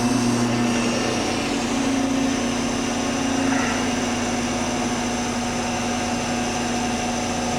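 An Okamoto rotary surface grinder, made in Japan, runs with its chuck spinning, giving a steady machine hum with a sustained tone throughout, close and even.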